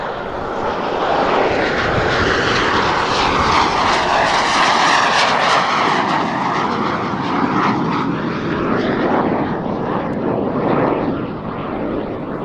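A Lockheed T-33 jet trainer powered by a Rolls-Royce Nene engine roars loudly on full power as it passes overhead, with a sustained broadband rumble and whine that swells and slowly fades.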